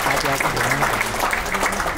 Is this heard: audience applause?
yes